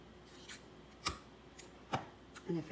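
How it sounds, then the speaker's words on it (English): Scissors cutting through leggings fabric, several separate crisp snips spaced irregularly, close and fairly quiet against a still room. "just hold that up so you're not cutting the back side of the leg"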